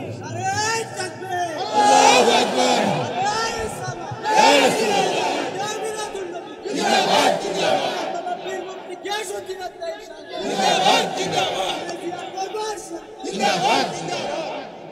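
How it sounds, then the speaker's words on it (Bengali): Crowd chanting slogans with raised hands at a religious gathering: loud bursts of massed voices rise in repeated waves, roughly every two to three seconds, with a lively hubbub filling the gaps. "হাত তুলে স্লোগান তুলেন"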